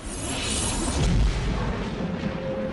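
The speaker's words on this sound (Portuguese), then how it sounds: "poderosas explosões sônicas ou tremores do céu" A sonic boom from a hypersonic aircraft, a deep, rumbling boom that swells and rolls through, with low thunder-like reverberation lingering steadily to the end.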